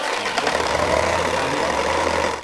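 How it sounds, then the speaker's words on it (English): A video game tractor engine rumbling steadily at idle, loud, low and continuous with a slightly rough, knocking tone, filling the whole moment without any voices. "Nothing like a tractor starting sound, is there?"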